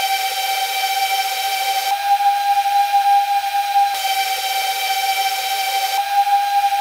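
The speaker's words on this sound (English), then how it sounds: "After lubricating these motors, the sound got quieter, smoother, and a little bit higher pitch." Brushless motors on a Mobula 6 drone spin at a steady high-pitched whine, loud and continuous, with a few faint changes in pitch and texture over several seconds.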